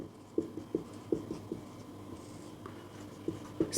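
Chalk or marker writing on a board during a classroom lesson, faint scratchy strokes and light taps arriving in an irregular series in a quiet room.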